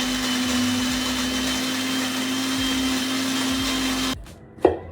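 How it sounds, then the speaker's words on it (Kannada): An electric mixer grinder whirs loudly and steadily as it grinds chicken gravy masala with water, a constant motor drone that stops abruptly near the end, followed by a brief clunk. "ಸ್ವಲ್ಪ ಸ್ವಲ್ಪ ನೀರನ್ನು ಹಾಕಿಬಿಟ್ಟು ಪೂರ್ತಿಯಾಗಿ ನುಣ್ಣಗೆ ರುಬ್ಕೊಳ್ಬೇಕು"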